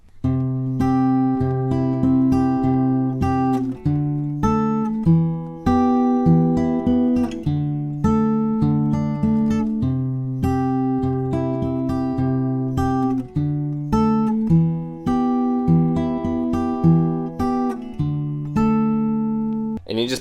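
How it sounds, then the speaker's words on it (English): Easy finger-picked guitar intro, a steady run of plucked notes over held bass tones across twenty seconds, close and clear with no talking. "the easy way of playing the intro finger-picked will sound like this"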